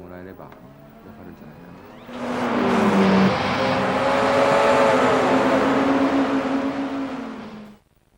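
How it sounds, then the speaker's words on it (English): A Gran Turismo 3 video game race car engine roars up and holds a loud, steady drone with tyres humming on the road, then cuts off abruptly. "road noise, the sound of the tyres moving across the road surface."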